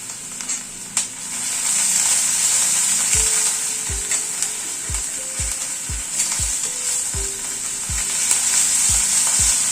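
Garlic and green chili paste frying in a pan, a constant close bright sizzle with a series of regular spoon taps and scrapes against the pan as it is stirred, roughly one stroke every half second to second.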